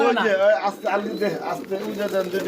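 A white Komnian border pigeon coos in low, soft, repeated phrases close by, partly under a voice talking.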